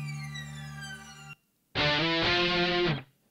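An intro guitar pad track from a mix plays as a bright, effects-laden sustained tone that stops abruptly, then a distorted chordal guitar burst rings for just over a second before ending.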